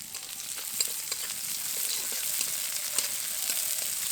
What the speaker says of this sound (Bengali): এবার এর মধ্যে দেব পেঁয়াজ কুচি।